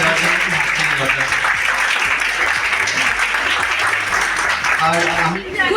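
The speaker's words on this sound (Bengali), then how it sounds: "উৎসাহ দেওয়ার জন্য একটু হাততালি দরকার" Sustained applause from an audience at a college Rabindra Jayanti cultural programme, dense steady clapping filling the whole stretch with voices murmuring beneath it.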